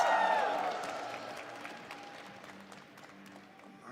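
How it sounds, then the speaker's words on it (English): At an esports fighting-game tournament, the crowd roars with cheers and applause that start loud and gradually fade to a lower murmur of scattered clapping. "Can I hear something from the crowd, please?"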